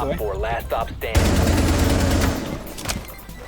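Gunfire in Rainbow Six shoots out a camera, a loud dense burst of rapid shots lasting about a second, preceded and followed by a player's voice.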